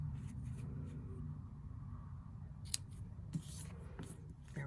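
Scissors trim a paper bow for a handmade card, with a few sharp snips standing out over a low steady background hum. The cuts are close and brief, and there is no talking.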